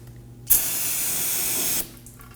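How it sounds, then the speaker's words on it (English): Brake cleaner sprays from an aerosol can around the engine of a Toyota Corolla 2.0L during an oil change. A single steady, close hiss runs for just over a second, then stops abruptly. "We're going to clean the surrounding area with some brake cleaner and a rag."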